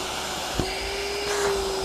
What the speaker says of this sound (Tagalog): Tapos vacuum.